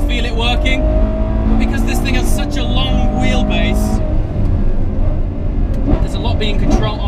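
A Ferrari 812 Superfast at the Fiorano track revs hard and loud through its gear shifts, the engine note rising and breaking with each change.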